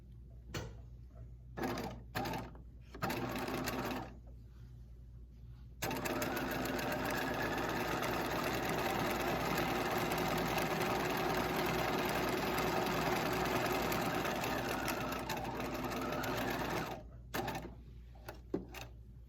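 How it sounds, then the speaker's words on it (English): A sewing machine stitching a 5/8 seam runs in one steady, close whirring stretch of about ten seconds, framed by short stop-start bursts of stitching before and after. "then you're going to sew a 5/8 seam"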